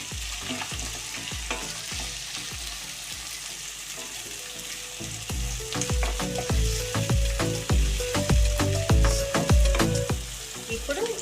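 Mutton sizzling loudly in a hot pan while being salted and stirred until browned, with frequent scraping and clanking of a spoon against the pan, the stirring strokes growing busier and louder toward the end.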